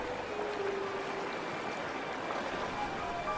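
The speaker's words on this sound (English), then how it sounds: "The tiny runoff stream that feeds the Willow Pond swells into a raging river." Snowmelt runoff swells a small stream feeding a willow pond into a rushing torrent, heard as a faint, steady, unbroken wash of flowing water with no voices.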